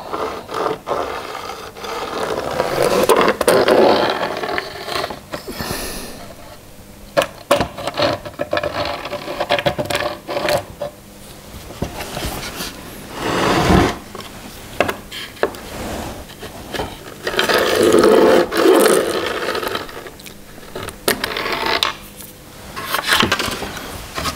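A saw cuts along the marked line of a violin top in a woodworking shop. Bursts of rasping, grinding strokes come in several long runs separated by short pauses, loud and close.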